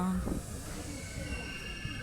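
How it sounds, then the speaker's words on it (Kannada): A diesel train, the 16575 Yeshvantpur–Mangaluru service, departs Shravanabelagola station with a steady low rumble and airy hiss, heard up close and continuous. "ಶ್ರಾವಣ ಬೆಳಗೊಳಿಂದ ನಮ್ಮ ಟ್ರೈನ್ ಡಿಪಾರ್ಚರ್ ಆಗ್ತಿದೆ"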